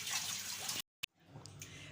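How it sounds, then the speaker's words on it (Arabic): Tap water runs into a sink while arugula and coriander are washed, a steady splashing rush that cuts off abruptly, then quieter drips and faint handling sounds follow. "هنغسل الجرجير ونغسل الكزبره ونقعهم في ميه"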